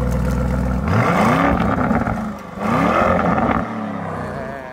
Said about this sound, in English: I want to hear the Corsa mode so we can hear the engine, what that B-turbo actually sounds like.